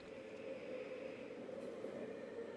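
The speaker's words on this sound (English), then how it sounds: "Tokyo Line train." A Tokyo Line commuter train in a visual novel game, heard as a steady, even rumble of a moving railcar with a faint mid-pitched hum, continuous and unchanging for the whole stretch.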